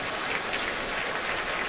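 Sustained crowd applause fills a stadium at an NFL football game between the Buffalo Bills and New York Jets, a dense, steady wash of clapping and cheering with no break.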